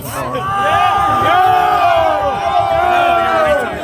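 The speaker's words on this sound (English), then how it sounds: "The crowd surrounding him instantly calls him out as a Fed." A crowd at the January 6 Capitol protest shouts at a man surrounding him, a loud, sustained mass of overlapping angry voices and yells close by.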